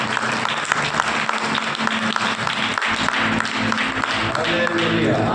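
Congregation clapping hands together in rhythm during a Hindi-language church worship service, a steady dense clapping texture mixed with voices and music filling the whole stretch.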